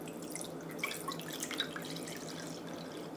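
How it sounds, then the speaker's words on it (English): Cold water trickles and drips softly into a bowl of onion ring batter, with small splashes and liquid patter, quiet and close. "So next we're going to add cold water."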